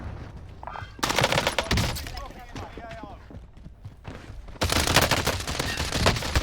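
DMR rifle fire in a video game, with dense bursts of rapid, close gunshots in two loud stretches separated by a quieter gap, while a voice talks over the action.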